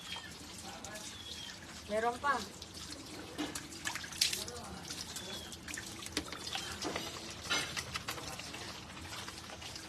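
Water pouring and trickling with scattered drips, quiet and close, while a person speaks briefly over it.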